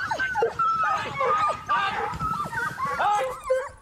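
A pack of hunting hounds in full cry while chasing a fox, many overlapping barks, yelps and whines rising and falling continuously, fairly close and loud, with no talking.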